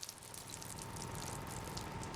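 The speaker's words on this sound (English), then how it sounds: "Empty the water tank." Water drains out of a tank in the zombie survival game Project Zomboid, a faint, steady splashing and trickling flow running without pause and without talk.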